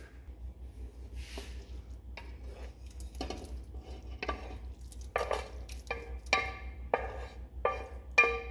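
Caramelized onions go into a pot of Brunswick stew, also called camp stew, with a low steady hum underneath and a run of soft stirring scrapes and clinks that grow louder and more frequent toward the end.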